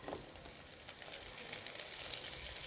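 Capsicum slices frying in a pan for spicy pasta give off a steady, soft, bright sizzle that holds evenly throughout, faint and close with no talking.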